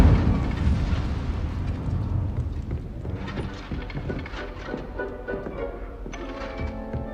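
An Incendio fire spell in Hogwarts Legacy erupts with a loud rumbling whoosh that fades into crackling, flickering flame noises and small bursts, moderately close.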